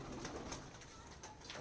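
Pigeons kept on a high rooftop in Prayagraj, giving soft, faint cooing calls in a short burst, with a little background noise.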